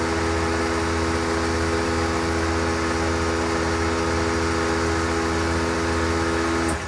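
Air compressor for a train horn mounted on a Jeep Wrangler, running continuously with a steady, loud mechanical hum and buzzing tones, cutting off abruptly at the very end.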